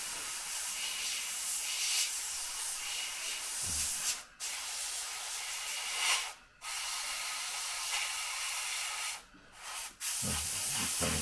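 An airbrush hisses steadily while spraying paint onto a HobbyBoss Nagmachon model vehicle, a close continuous spray broken by three short pauses as the trigger is released and pressed again.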